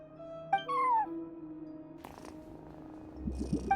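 Soft, low purring of a cat sitting at a front desk in Genshin Impact, a quiet rhythmic rumble under game tones and chimes, with a brief rising meow-like call near the start.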